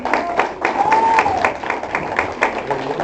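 A church congregation applauding during a sermon, rhythmic clapping from many people in a reverberant hall, with a singing or speaking voice partly over it.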